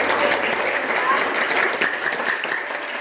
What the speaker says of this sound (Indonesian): Tapi kita beri tepuk tangan dulu untuk kelompok.